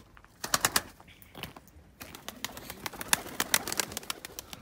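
Pet pigeons moving about nearby, with sharp wing flaps and scuffling bursts scattered through the stretch, busier in the second half, no talk.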